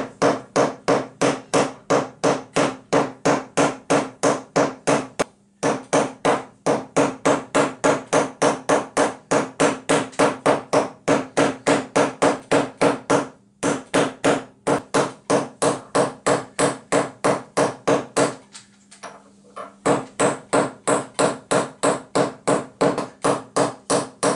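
Steady rapid hammering on 120-gram lead weights set against a wedged mallet, loud sharp metallic strikes in a fast even rhythm, broken by a few brief pauses.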